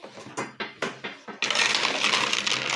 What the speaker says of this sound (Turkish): Şimdi bunları karıştıralım.